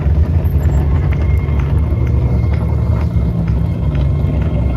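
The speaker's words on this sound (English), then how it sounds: "Ferrari GT coming in" A Ferrari GT supercar arriving at a supercar festival runway parade, a loud, steady low engine rumble close by with no clear speech.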